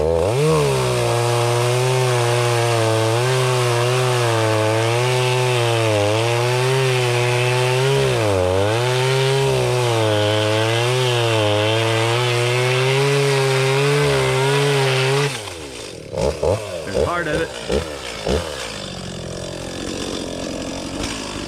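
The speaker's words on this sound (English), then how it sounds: "So Donald has come down with his chainsaw." A chainsaw engine drones loudly and steadily for a long stretch, its pitch dipping as it bites into a fallen tree on a trail, then cuts off, leaving faint rustling and knocks.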